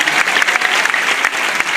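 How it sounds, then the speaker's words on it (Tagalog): Congregation applauding for the Lord at a church's 34th anniversary service, a loud, dense burst of clapping from a crowd, steady throughout with no talk. "Isang malakas na palakpak sa ating mahal na Panginoon."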